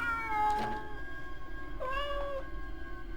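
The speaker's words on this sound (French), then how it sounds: "Il y a un petit chat." A cat meows twice, two drawn-out, wavering cries separated by a short pause, fairly close over a steady low hum.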